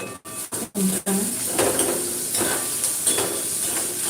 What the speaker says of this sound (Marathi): कांदाही आपण भाजत ठेवलेला आहे त्यालाही हलवून घेऊया